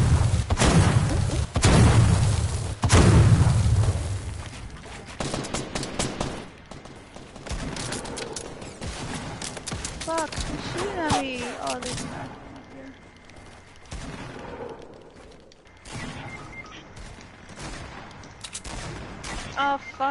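Bursts of automatic gunfire and explosive booms from a PS4 shooter game, dense and loud in the opening seconds, then sporadic shots under excited voices.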